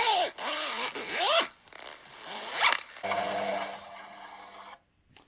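Close, loud rasping pulls of a tent zipper in several short bursts, followed by a longer, steadier scraping drag before it cuts off.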